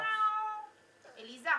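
A cat gives a drawn-out, harmonic meow, then a second short call follows after a brief pause while a person speaks nearby.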